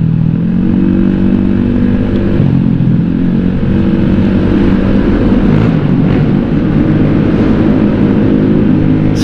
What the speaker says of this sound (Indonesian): beginilah suaranya kalau Vario pakai WRX GP5